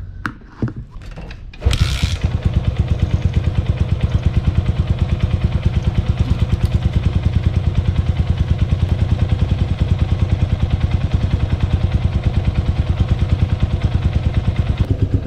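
A motorcycle engine idles while warming up, starting after a few brief knocks and then running with a steady, rapid, close chugging pulse that stays even and loud throughout, with no talking.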